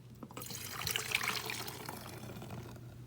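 Homemade lemon and lavender white-vinegar cleaner is poured into a bottle, a soft, close trickle and gurgle of liquid lasting about three seconds, quiet and with no voices.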